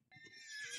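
A horse mount in the DDO video game gives one short, quiet whinny that rises and thins out at the end, heard alone.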